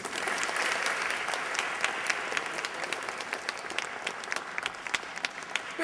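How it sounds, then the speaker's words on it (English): An audience at a business forum applauds after a speech, dense steady clapping that holds for several seconds at moderate level before thinning slightly. "Let's keep that applause going for George Russell"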